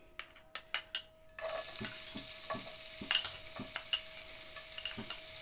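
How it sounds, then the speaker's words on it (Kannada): Garlic dropped into hot oil for honey chilli potato, a few utensil taps first, then a sudden loud steady sizzle with occasional stirring scrapes close by. "ಎಣ್ಣೆ ಕಾದಿದೆ, ಬೆಳ್ಳುಳ್ಳಿ ಹಾಕ್ತಾಯಿದ್ದೀನಿ."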